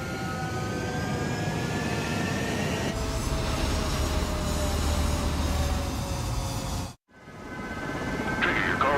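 A military jet aircraft taking off in the video game Ace Combat 7, a steady loud engine roar building and holding, cut briefly by a gap before resuming.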